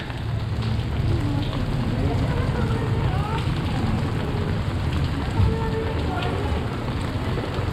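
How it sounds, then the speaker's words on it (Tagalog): Steady rain hissing on surfaces in Vigan, Philippines, a constant wash of noise with faint voices murmuring underneath. "Kaya lang umuulan."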